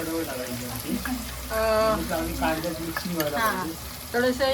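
Spices and chili roasting in a frying pan for Malvani-style kombdi vade, a sizzling frying hiss with stirring scrapes under someone talking throughout.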